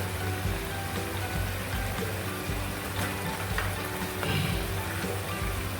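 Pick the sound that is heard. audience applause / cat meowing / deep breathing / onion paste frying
onion paste frying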